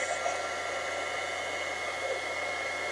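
A heat tool blows steadily while drying an ink swatch card, a constant close whirring hiss with no pauses and no talk.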